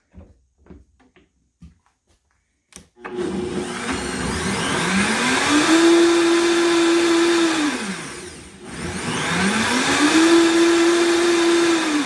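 A blender whirs loudly through tomato soup with coconut milk and basil in two long runs, its motor pitch climbing and settling each time, with a short break between; a few soft knocks come before it starts.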